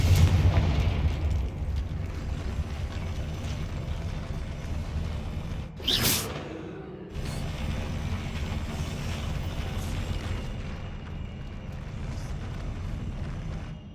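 A Confringo blasting spell goes off in Hogwarts Legacy, one sharp loud explosive burst around the midpoint that decays quickly into a steady low background rumble.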